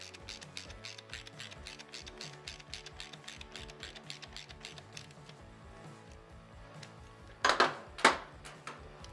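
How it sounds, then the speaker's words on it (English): Hand ratchet snugging bolts on a motorcycle cam chest during an S&S Cycle cam kit install, a quick run of dry clicking pawl ticks up close, ending in two sharper metallic clacks. "Now, using the ratchet, we're going to go ahead and hand tighten them in until they're snug."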